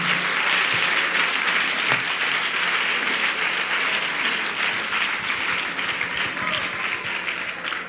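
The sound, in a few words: church congregation applauding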